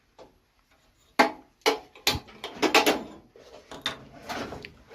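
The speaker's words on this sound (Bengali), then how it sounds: "গ্যাসটা জ্বালাই" A household gas stove being lit to boil water for instant noodles: a few sharp, close igniter clicks followed by a soft, steady burner hiss.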